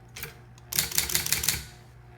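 Clattering bursts of keystrikes on a belt-driven 1980s Sears Scholar electric typewriter, a short tap followed by a quick run of close, crisp clacks that fade into a faint motor hum.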